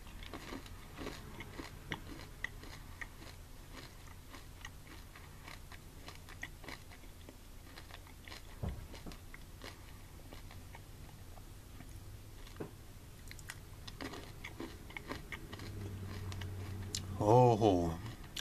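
Close, quiet crunching and chewing of chili nut M&M's candies, irregular soft bites and mastication running throughout at low level.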